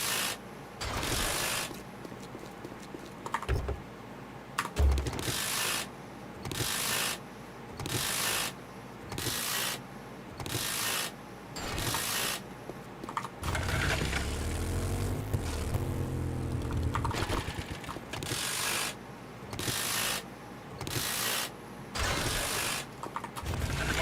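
In the video game 7 Days to Die, an impact driver dismantles objects in repeated rhythmic whirring, ratcheting bursts, loud and close, each lasting about a second with short gaps, plus a longer grinding stretch midway.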